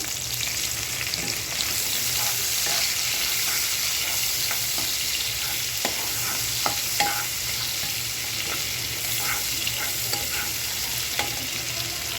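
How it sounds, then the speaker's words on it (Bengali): Chopped onion goes into hot oil left from frying coral fish and sizzles loudly and steadily, with light stirring scrapes throughout and no voices. "এখন এই মাছ ভাজার তেলের ভিতরেই পেঁয়াজ কুচি দিয়ে দিচ্ছি।"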